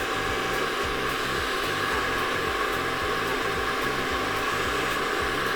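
A hair dryer blows hot air onto a stretched hair tie to shrink it. A steady, loud whirring roar with a fan hum runs unbroken from start to end, close by.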